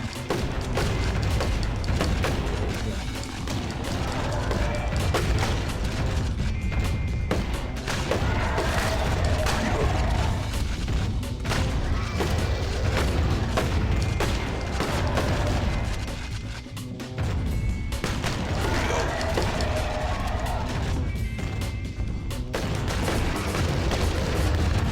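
Gunfire in the House of the Dead Overkill video game: continuous loud, dense game audio with repeated thumping shots and booms layered over a rumbling soundtrack, with a brief dip midway.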